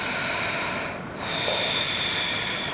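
A long, airy breath drawn in and pushed out, a rushing hiss with a brief dip between inhale and exhale, close and alone.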